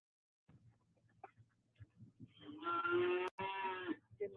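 A cow on a farm lets out one long, loud, close moo lasting nearly two seconds, after scattered soft rustling and shuffling sounds.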